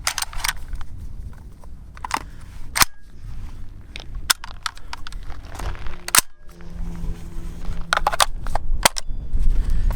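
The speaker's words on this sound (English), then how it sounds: "So I think I've shot the Rock Island VRF14 enough now to get a good feel for it" Sharp gunshots from a Rock Island VRF14 shotgun, fired as a string of loud, separate reports at uneven intervals over a few seconds, with rustling and outdoor background noise between the blasts.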